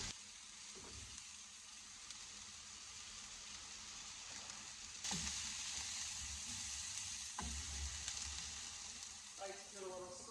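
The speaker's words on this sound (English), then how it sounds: "So I'm browning the garlic." Garlic browns in a pan with onions for a gravy, a steady soft sizzle with a few stirring clatters and light knocks, while a voice talks faintly.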